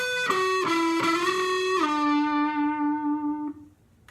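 A distorted electric guitar plays a short sustained lead line: a few picked notes, a bend down into a long held note, then the sound cuts off.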